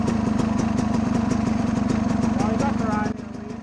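A motorcycle engine idling with a steady, loud, throbbing rumble that keeps an even pulse and drops slightly in level near the end, heard up close.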